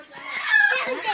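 A chicken on a farm field gives a short, close cluck-like call lasting about a second, with faint voices nearby.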